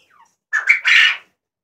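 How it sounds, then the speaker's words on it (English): A pet quail lets out a short, sharp squawk, close and loud, after a faint chirp, then silence. "My pretty little birds."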